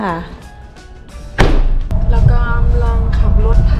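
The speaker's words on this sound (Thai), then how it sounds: "อาปิดประตูเลยค่ะ" A BMW car door is shut with a single solid thud partway through, close and loud, while a voice can be heard talking before and after.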